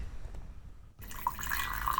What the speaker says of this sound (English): that one's pouring coffee